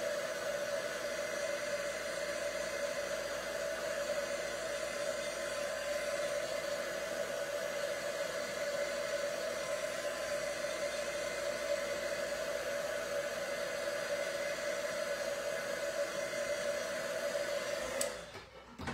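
A hair dryer blows steadily to dry hair, a constant loud whirring hiss that runs close and unbroken until it cuts off abruptly near the end, with no talking.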